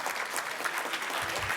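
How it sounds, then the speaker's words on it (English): Members of a community civic association, at its 25th anniversary gathering, applaud the mayor in a short burst of many hands clapping together, a close and even roar of sound. "give him a round of applause for all he has done for our community and our city"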